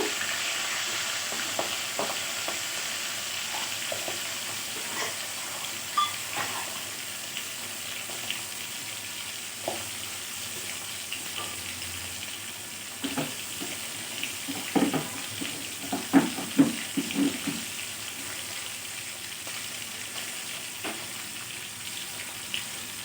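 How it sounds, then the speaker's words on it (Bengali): Pomfret fish fry in oil in a wok with a soft, continuous sizzle, broken by scattered utensil clicks and a brief cluster of louder pops and scrapes toward the end. "মাছটাকে আমি একটু উল্টে দিচ্ছি খুব লাল করে ভাজবো না হালকা ভাজবো"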